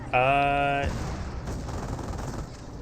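Gunfire crackles in a Company of Heroes battle between Panzer Elite and US forces: a brief tonal blast, then a fairly quiet, sustained rattle of distant shots.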